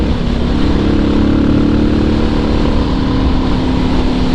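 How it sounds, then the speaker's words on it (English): A Suzuki DR650 motorcycle with an aftermarket exhaust idling with a steady, deep rumbling exhaust, loud and close, without any talking. "So it's an aftermarket exhaust and it doesn't seem loud at all."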